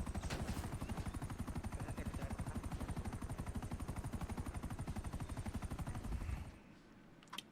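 Sustained rapid automatic gunfire in GTA V pounds in a steady rhythmic stream of low thuds for about six seconds, then cuts off into near silence.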